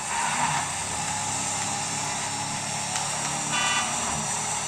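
A heavy truck in an open-world video game roars with a steady, loud engine drone over a continuous mid-range hum, with no clear pauses or shifts in level.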